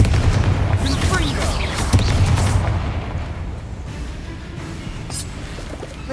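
Fire spell blasts in Hogwarts Legacy, a dense booming, crackling burst of magical impacts that peaks early, then settles into a lower rumbling texture with a few sharp flares, loud and continuous.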